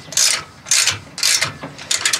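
Ratchet clamp being cranked down onto a jon boat trailer outdoors, several short bursts of close, loud metallic clicking separated by brief pauses.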